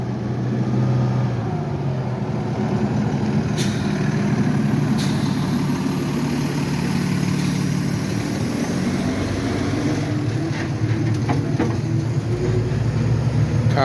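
A Boston fire department ladder truck pulls out of the station to answer a two-alarm fire. A steady, loud heavy diesel rumble carries through the whole stretch, with brief higher clatter and whine partway through and no talk.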